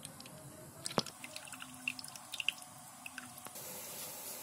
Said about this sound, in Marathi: हे रव्यातलं पाणी गाळून काढून टाकलंय